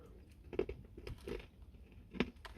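Crunchy Crackzel pretzels in Hot Buffalo Wings flavor are bitten and chewed close up, giving a few sharp crunches spaced apart with quieter chewing between them and no talking.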